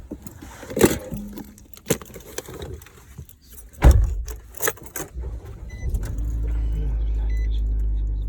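Someone gets into a car, with keys jangling and rustling, a few knocks and a solid door thump, then the interior goes quiet except for a steady low hum of the cabin.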